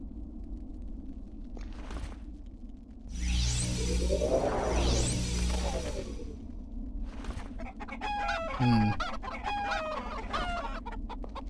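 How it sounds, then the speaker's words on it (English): A chicken clucks in the video game Arx Fatalis, its calls sounding over a low ambient game drone, with a louder rushing sweep in the middle and sharper clucks toward the end. "I'm still just clucking."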